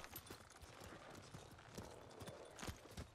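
Soft, rhythmic clip-clop of horse hooves trotting at a steady pace in the video game Ghost of Tsushima, fairly quiet and a little distant, with faint background ambience.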